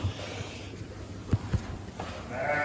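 Sheep and lambs bleat in a freshly cleaned sheepfold during lambing season, a few soft, scattered calls over a low barn hum with faint shuffling footsteps.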